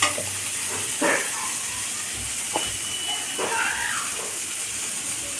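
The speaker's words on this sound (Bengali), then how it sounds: "এটা লাল করে ভাজতে হবে।" Food fries in a pan with a constant hissing sizzle, broken by a few soft stirring scrapes, close and steady throughout with no talking.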